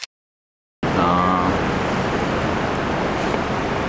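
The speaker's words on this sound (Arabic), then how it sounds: "المايه ماشيه باندفاع يعني مندفع ده كانه نهر يعني" Floodwater rushes through Wadi al-Aqiq in Medina like a river, a loud continuous roaring wash that starts abruptly after a brief silence, with a faint voice briefly audible under it.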